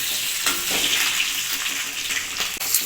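Whole cumin, garam masala, cinnamon, black and green cardamom, two dried red chillies and bay leaf sizzle in hot oil for a Bengali tempering, a loud, steady crackling hiss with a few sharper pops throughout.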